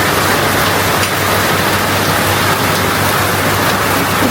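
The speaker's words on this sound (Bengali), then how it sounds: "পরিমাণে বৃষ্টি হইতেছে বাইরে" Heavy rain pours outside on a cold day, a dense, steady, loud hiss of falling water with no break and no voices.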